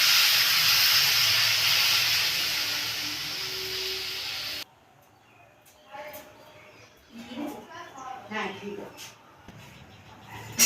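Water poured into a hot pan of khoira fish curry gives a loud, sustained hiss for several seconds, then cuts off to quieter bubbling and clinks while someone talks.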